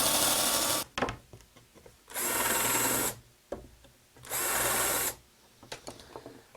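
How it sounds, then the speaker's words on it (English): A drill bores into a ski with an aluminum top skin, wood core and plastic base, three loud sustained bursts of about a second each separated by quieter clicks and handling knocks. "I think we might as well drill for the back part too while we're here"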